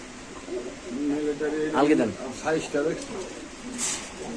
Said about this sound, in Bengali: আদান ভাই এটা কি ভাই অনেক সুন্দর একজন কবুতর দেওয়া যাইতেছে